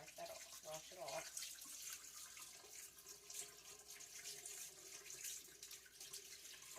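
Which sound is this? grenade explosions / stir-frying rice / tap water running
tap water running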